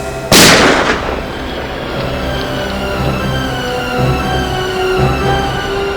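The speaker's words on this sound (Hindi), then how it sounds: "गोली तो अब भी चलेगी" A single loud gunshot in a TV crime-drama scene at a hospital, a sharp blast near the start that fades into a ringing, droning tail with a sustained tonal hum beneath.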